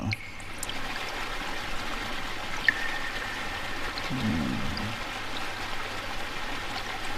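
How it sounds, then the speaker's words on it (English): Steady, soft trickling of a flowing river in the video game MIND: Path to Thalamus, a continuous gentle wash of water with no talking over it. "The river of memories."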